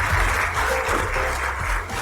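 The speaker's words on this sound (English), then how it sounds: "A big round of applause for her." Sustained applause from an audience at a formal Indian awards ceremony, honouring a female award recipient; steady, dense clapping throughout with no talk over it.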